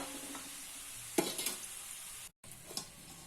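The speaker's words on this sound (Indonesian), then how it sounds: "Ini kita goreng sampai berwarna coklat." Kue telur gabus dough pieces frying in oil over low heat give a quiet, steady sizzle, with a few brief clicks and scrapes of stirring and a short silent gap near the end.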